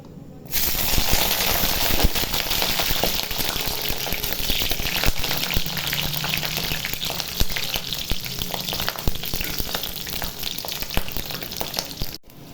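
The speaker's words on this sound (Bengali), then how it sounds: "এখন কাঁচামরিচগুলো ভেজে নিব" Green chilies with trimmed tops fry in hot oil with a loud, dense, continuous sizzle and crackle that runs unbroken for about twelve seconds, no voices over it.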